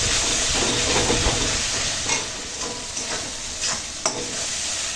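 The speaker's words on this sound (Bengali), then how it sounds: "একটুখানি জল দিব, যাতে না মশলাটা পুড়ে যায়।" Spiced masala paste frying in a pan with a splash of water added, giving a steady loud sizzle and hiss with scattered scraping stirs and small pops, no voices.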